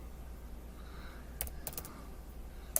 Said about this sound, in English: I need to get a new keyboard.